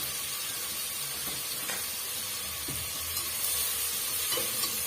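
Onion and tomato in a pan for potato-pea kurma, sizzling in an even steady hiss while being stirred, with a few soft spoon scrapes, close and alone.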